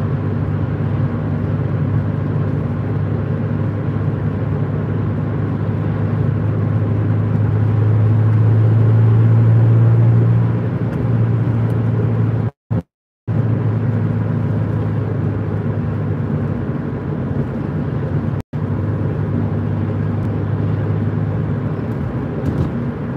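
Steady low engine rumble and road noise of an old Vauxhall Astra being driven, heard from inside, continuous with two brief dropouts.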